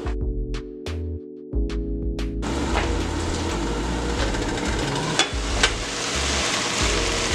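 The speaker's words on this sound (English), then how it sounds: "Now we're going to saute this for about 5 minutes, making sure that it doesn't stick." Food sautéing in a non-stick pan: a few tapping and stirring knocks, then a steady, fairly loud sizzle with occasional scrapes of a utensil, with no talking.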